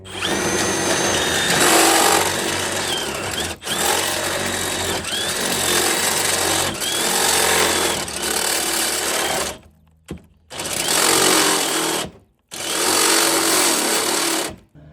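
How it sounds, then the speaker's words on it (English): A power drill whines loudly and steadily, grinding through the metal of an electrical panel in long bursts separated by short pauses. "we're gonna go ahead and start drilling that hole there"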